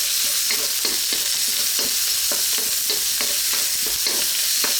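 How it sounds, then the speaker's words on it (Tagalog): Garlic and onion sautéing together in a pan for Filipino pork fried rice, a loud, continuous sizzle with rhythmic spatula scrapes repeating about twice a second, no voices. "i-add na natin yung ating garlic. Siyempre, sasabayin na lang natin yung ating sibuyas. Haluin lang natin sandali."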